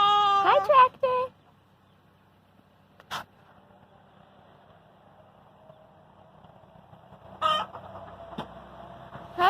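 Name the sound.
chickens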